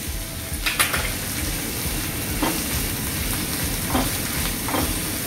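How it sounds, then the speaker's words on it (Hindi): Capsicum, cabbage and onion sautéing in a pan for veg Manchurian, a loud continuous sizzle with a few soft stirring scrapes and faint clinks of cookware. "उसके बाद शिमला मिर्च और पत्ता गोभी थोड़ा से सौते हो जाए"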